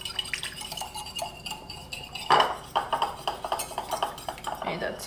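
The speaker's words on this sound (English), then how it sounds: "And now we're gonna mix this up." Red wine vinegar dressing being mixed in a bowl, with clinking utensil scrapes and taps against the dish and a few wet stirring sounds, close and moderately quiet.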